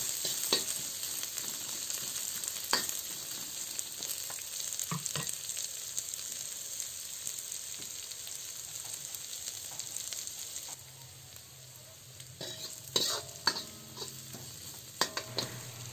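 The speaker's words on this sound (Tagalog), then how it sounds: "Ilagay na rin natin ang hiniwang sibuyas. Lutuin lang natin ito ng 2 minuto" Sliced onion sautéing in a pan for chicken tinola, a steady close sizzle and frying hiss with occasional stirring clinks and scrapes, the sizzle easing slightly toward the end.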